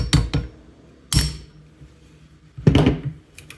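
A hammer strikes a steel punch to drive the rear sight base off an SKS rifle, with a cloth draped over the part; three sharp metallic blows land at spaced intervals, close and loud, in a quiet room.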